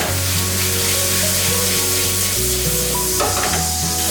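Cold turkey breasts fry in a hot pan, giving a steady, loud sizzle with crackling spatter throughout, a sharper burst near the end and a low tonal hum underneath.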